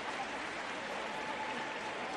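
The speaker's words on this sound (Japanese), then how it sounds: "スタンドからは拍手は送られますが" Stadium stands at a J.League match between FC Machida Zelvia and Renofa Yamaguchi clap for a substituted player, a faint, even wash of distant applause holding steady throughout.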